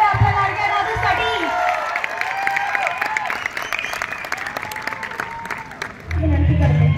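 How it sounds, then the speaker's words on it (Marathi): Applause and cheering at a school annual day celebration, a crowd clapping beneath music and voices, with a loud low rumble near the end. "जोरदार टाळ्या होऊन जाऊ द्या आपल्या लाडक्या दादूसाठी"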